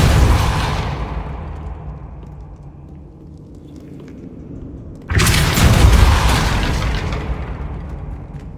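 A Depulso spell from Hogwarts Legacy lands with a heavy booming impact that fades over several seconds, then a second loud rumbling blast hits and lingers.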